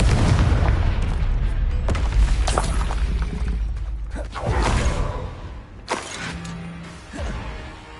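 A Confringo spell in Hogwarts Legacy sets off a series of loud booming blasts with rumbling, creaking debris, mostly in the first half, followed by quieter impacts and a low hum.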